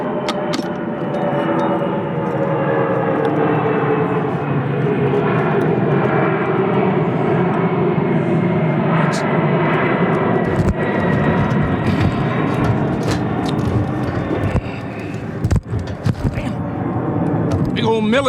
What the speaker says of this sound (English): Big old military jet flying over us.